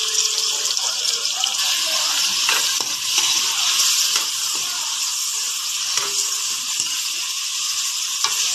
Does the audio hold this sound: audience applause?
no